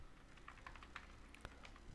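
Typing a command into the Windows Run box on a computer keyboard, a quick run of soft key clicks at an irregular pace, faint and close against a low steady background hum.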